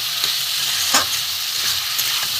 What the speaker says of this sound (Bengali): ভালো করে আমি কষিয়ে নেব বন্ধুরা